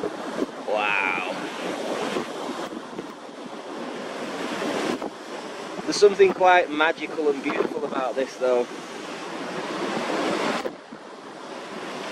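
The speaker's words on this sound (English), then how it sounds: "Even though it's just waves crashing up and bumping into each other, the power of nature is just astonishing." Ocean waves in a 3-5 ft swell at 9-second intervals crash and wash nearby with a broad roaring hiss and some wind, while someone talks over the surf in the middle.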